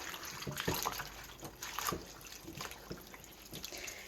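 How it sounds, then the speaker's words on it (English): Spinach leaves soaking in a bowl of water give a soft, continuous watery swish and light splashing, close and quiet, with no talking. "You take a handful of your lettuce and you let that soak in the water."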